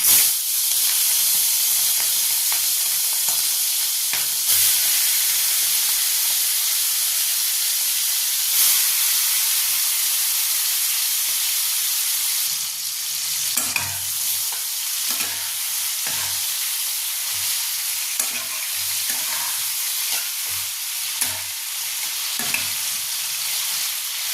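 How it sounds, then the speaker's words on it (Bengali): Large salt-and-turmeric marinated prawns fry in hot oil, giving a loud, continuous hiss and sizzle. Sharp crackles and spatters follow, and in the second half the stirring knocks against the pan. No voices are heard. "এবার চিংড়ি মাছটাকে আমি এর মধ্যে দিয়ে একটু ভেজে নেব।"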